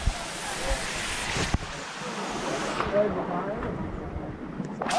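A waterfall in India, visited by moped, roars as a steady broadband rush of falling water close by, with wind buffeting the microphone and no talk over it.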